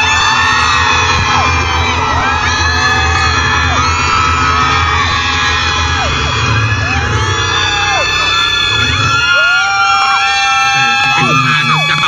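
A large crowd at the Workpoint Festival screams and whoops continuously over loud music, with shrill cheers rising and sliding throughout.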